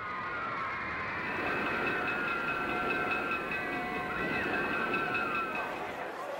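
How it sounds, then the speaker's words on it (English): A troop train rolls along the rails with a steady rumble and a sustained metallic squeal over it, continuous and fairly close, with faint voices in the background. "were whisked away as rapidly as possible by a troop train"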